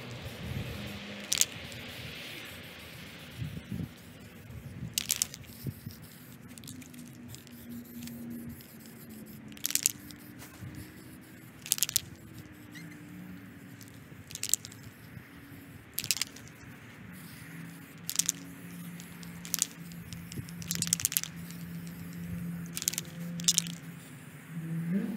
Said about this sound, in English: what I'm gonna do is get the paint can shook up and then we'll start shooting some paint.